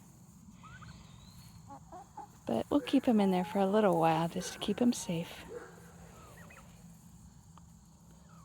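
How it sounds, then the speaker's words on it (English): Turkeys and chickens move in a homestead pen as new birds settle in, with soft clucks and calls beneath someone talking close by. "the older turkeys are circling around trying to figure out how to get in there"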